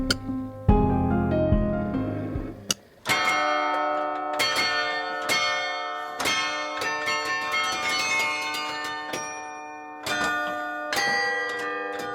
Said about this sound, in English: The chimes are played weekly by the city Carillonneur.